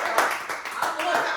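A small group claps briefly during a podcast, a short, close run of hand claps with a few distinct accents, under a lively room tone.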